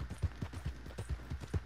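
Steady, even clip-clop of horse hooves at a trotting pace in Red Dead Online, close and moderately loud, with the footfalls repeating evenly and no talk.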